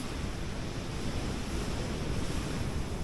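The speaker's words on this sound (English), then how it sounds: "Yeah, rough waves today." Rough ocean waves at Escambrón Beach in Puerto Rico make a continuous, heavy roar of surf mixed with wind buffeting, loud and close with no break throughout.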